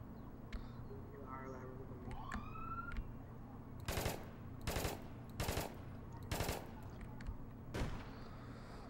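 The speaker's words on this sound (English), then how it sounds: "Ah, damn, I shot a pedestrian." Gunfire in the online game APB Reloaded: after a quiet stretch with a rising siren-like tone, five loud separate bursts of shots ring out at a steady pace over a droning background hum.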